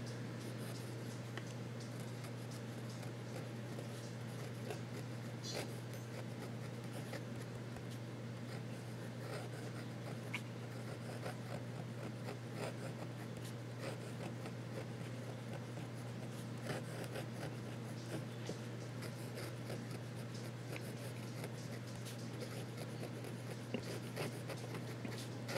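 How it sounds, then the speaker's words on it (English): Faint, soft scratching of a Pelikan Culture fountain pen nib drawn upside down across paper, a quiet irregular scribble over a low steady background hum. "Reverse writing."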